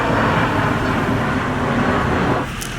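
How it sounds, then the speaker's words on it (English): An airplane rumbles overhead above a junkyard, a broad steady roar that holds loud for over two seconds and then eases off. "Stupid plane."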